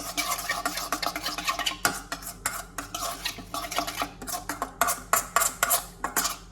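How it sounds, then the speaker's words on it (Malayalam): Tandoori chicken marinade is mixed in a bowl, with brisk wet squelching strokes and light clinks of a utensil against the dish. The sound is close and steady, about a dozen strokes in quick succession, with no speech. "എന്നിട്ട് വീണ്ടും മിക്സ് മിക്സ് മിക്സ്"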